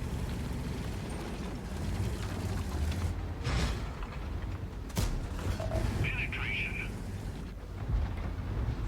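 A tank cannon fires a HEAT shell in World of Tanks, heard as a sharp, loud boom over a steady rumble of engine and battle noise, with a softer crack earlier on.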